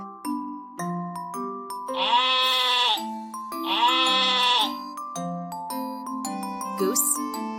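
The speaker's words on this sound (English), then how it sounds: "Sheep." A sheep bleats twice, two drawn-out wavering calls set over a light plinking tune that plays throughout.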